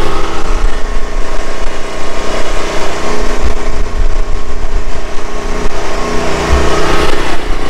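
Farm generator running steadily nearby, a loud continuous engine drone with a low harmonic hum and no pauses, heard alone throughout.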